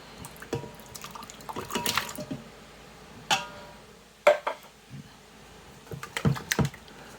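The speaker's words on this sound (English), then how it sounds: "Juice, make sure you put the juice in, guys." Canned pineapple juice and chunks poured into a pot, producing close, irregular liquid splashes and plops with wet bursts and brief pauses, no voices.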